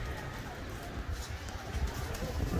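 Pigeons coo softly amid a crowded flock, their low murmuring set against a dense, rumbling outdoor background.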